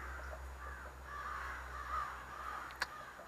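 Crows caw repeatedly at a distance over a low steady hum, faint hoarse calls spread across the moment.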